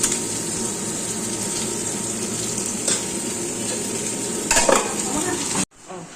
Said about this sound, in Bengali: আর এদিকে আমার চিকেনটা কষানো হয়ে যাচ্ছে, দেখতেই পাচ্ছ তোমরা।